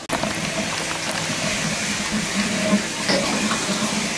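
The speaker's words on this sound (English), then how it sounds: "now we're going to see how it looks like when you siphon this little area here" Gravel vacuum siphon drawing water and built-up debris from an aquarium gravel bed, a steady close gushing and trickling flow that runs throughout with small bubbling pops.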